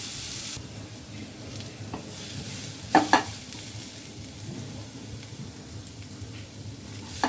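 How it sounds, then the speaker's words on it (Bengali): Chopped onion, garlic and green chilli frying in oil, a steady close sizzle with a couple of sharp utensil knocks partway through. "পেঁয়াজ কুচি রসুন কুচি আর কাঁচামরিচ দিয়ে দিব এগুলো একটু লাল লাল করে ভেজে নিব"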